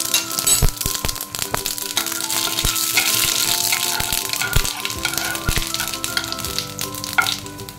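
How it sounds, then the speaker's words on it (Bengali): Dried red chili and radhuni seeds tempering in hot oil, giving a steady, close sizzle with crackling pops over a soft tonal background. "শুকনো লঙ্কা ফোড়ন দিয়েছে"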